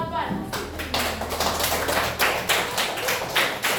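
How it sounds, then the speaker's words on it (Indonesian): Students in a classroom give a short burst of applause for a player, a run of quick, fairly close claps in a steady rhythm running under a voice that keeps talking. "beri aplaus untuk player 8"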